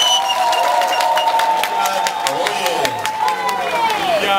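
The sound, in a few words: crowd applauding and cheering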